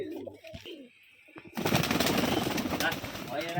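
Firecrackers burst outside near a pigeon loft in Rajshahi, a sudden loud crackling barrage that starts partway through and continues densely, after quieter bird sounds and a short lull.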